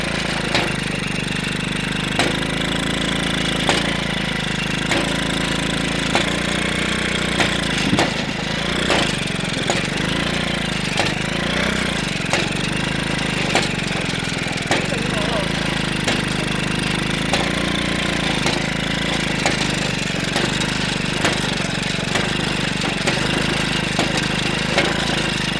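A loud, continuous motorcycle engine powering a homemade cultivator chugs steadily with irregular knocking and clattering over it as it churns through soil and cuts roots.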